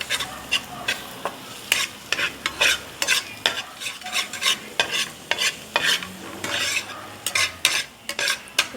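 Seasoning being stirred into melted butter in a pan for pepper shrimp, a spoon scraping and tossing in repeated quick strokes over a light sizzle, close and fairly loud, with no talking.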